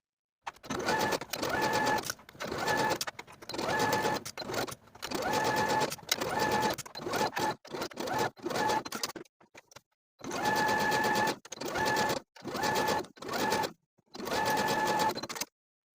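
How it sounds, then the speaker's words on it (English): Sewing machine running in repeated bursts as it stitches a knit seam with a quarter-inch allowance on a raglan tee, each run a steady motor whir with short pauses between, close and fairly loud, no talking. "I'm going to sew again from one side to the other with a 1/4 inch seam allowance"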